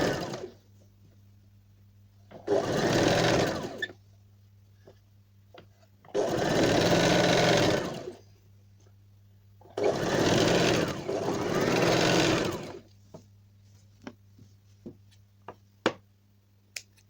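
A sewing machine stitches round-neck piping on a kurti in three sustained runs of about one to two seconds each, with soft ticks and handling noises between them and a steady low hum underneath.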